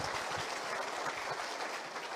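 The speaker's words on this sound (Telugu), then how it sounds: "గట్టిగా చప్పట్లతో ఒకసారి స్వాగతం సుస్వాగతం" A crowd at a BRS political joining event in Telangana claps together, producing a steady, dense wash of applause that holds at an even level without a break.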